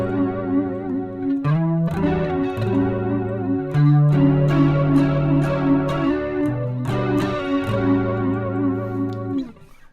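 Electric guitar run through a flanger on an Axe FX 3 at a high rate, giving a sustained, swirling chorus-like shimmer across a steady series of chords and notes, loud and continuous with no talk.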